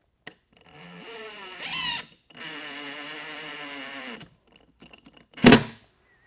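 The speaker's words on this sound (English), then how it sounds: "the head of this screw will be flush with the surface of the box once I drill it all the way down" A power drill whirs in a few bursts, driving a screw into a wooden beehive box, with short pauses between runs and a sharp clatter near the end.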